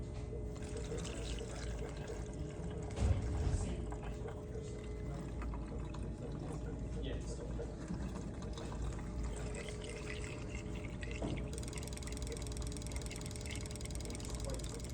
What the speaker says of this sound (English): All right, you start pouring some water in.